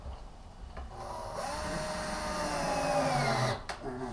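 A power driver whirs as it sinks 1¼ inch screws through a custom entertainment center wall unit into the wall: one sustained, rising whine of about two and a half seconds that cuts off sharply, with quiet before and after.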